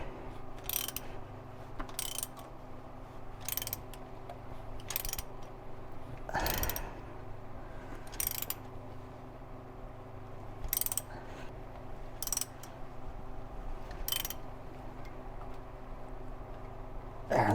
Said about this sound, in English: we're here just getting the final bolts on there